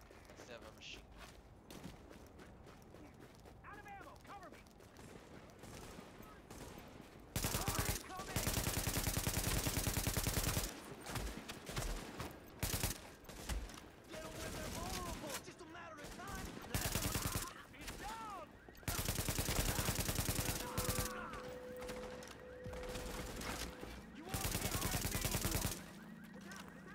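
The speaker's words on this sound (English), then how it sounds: "So now we're back to our assault rifle." Assault rifle fire in the video game The Division, with loud sustained bursts of automatic gunfire broken by quieter stretches of mechanical clicks and movement.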